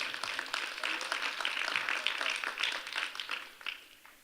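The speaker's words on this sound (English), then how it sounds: "clap your hands, everybody." An audience claps at a justice-themed press conference opening, a steady crowd applause that rises, then thins and fades out near the end.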